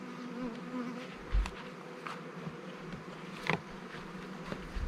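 Honeybees buzz around hive frames with a soft, continuous hum, faint and slightly distant, broken by a couple of brief bumps and handling knocks.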